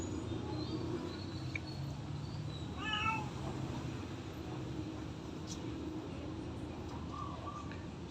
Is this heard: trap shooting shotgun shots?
no